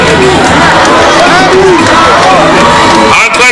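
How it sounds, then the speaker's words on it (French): Dense, loud crowd cheering and ovating a president, a continuous roar of shouts, whoops and chants close by, with voices talking through it. "Cette foule en liesse qui est en train de l'ovationner."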